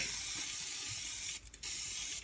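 Cooking oil sprayed from a can onto a pizza pan for homemade pizza, a loud close continuous hiss broken once by a brief pause before resuming.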